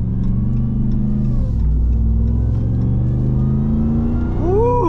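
A 2021 Ram 1500 TRX pickup with a supercharged 6.2L V8 accelerates hard. The loud engine rumble builds with rising harmonics through the gears and climbs again sharply at the end, with no talk.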